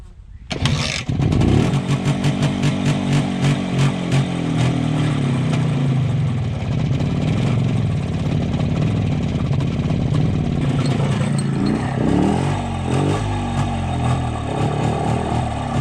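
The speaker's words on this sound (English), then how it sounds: "Let's see if it will start one kick." An MZ TS125 motorcycle with a freshly serviced carburetor fires up on a single kick with a sharp burst, then settles into a steady, loud two-stroke idle that runs close by for the rest of the clip.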